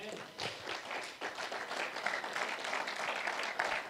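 A church congregation applauds throughout, a dense, steady wash of many hands clapping at a fairly close distance with no break.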